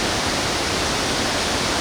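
Kiat Oak Waterfall on the Tayicsua Waterfall Trail in southern Laos pours with a steady, full roar of rushing water, a dense even wash that holds unbroken throughout, with no voices over it.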